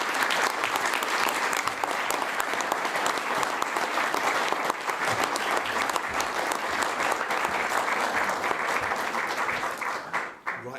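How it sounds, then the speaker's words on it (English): A big round of applause from a festival audience rolls on steadily for about ten seconds, loud and dense with whoops mixed in, then fades quickly at the close. "I would like all of us to come together and give them a big round of applause"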